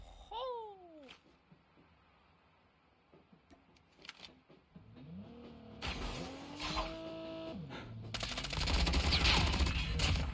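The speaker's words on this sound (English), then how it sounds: "Oh, they're shooting at me." Gunfire in the mobile shooter Call of Duty Mobile, shots cracking in bursts that build toward the end, mixed with other game noise.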